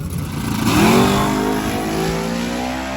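Turbo Camaro at full power on a drag strip, engine revving hard with pitch climbing steadily through the pass, loud and continuous.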